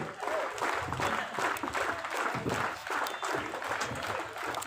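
Audience applause at a student union's 40th foundation day celebration, a sustained wash of clapping from a seated crowd in a hall, moderately loud and continuous.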